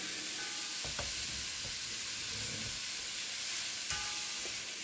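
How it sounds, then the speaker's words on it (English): Food sautéing in a stainless steel wok gives a faint, steady sizzle with a few quiet clinks and scrapes of a utensil against the metal; no voices. "Now we're just going to let those saute"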